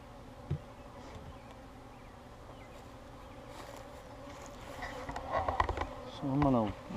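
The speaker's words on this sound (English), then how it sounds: "You can see these bees are all around me here." Honeybees buzz steadily around a beekeeper opening a hive during an inspection on a bee farm, a close, continuous insect drone that swells louder toward the end with a few brief clunks of handling.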